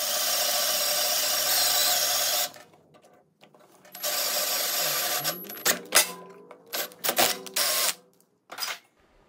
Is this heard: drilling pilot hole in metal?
yes